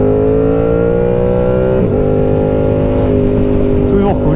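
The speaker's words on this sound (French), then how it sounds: "la ligne est complètement vide, il n'y a pas de catalyseur, il n'y a pas de chicane. Donc autant vous dire que la moto fait un bruit monstrueux." A Yamaha R7 motorcycle with an open exhaust, no catalyst and no baffle revs loudly while riding, its harsh engine tone rising and then shifting. It is close and dominant throughout.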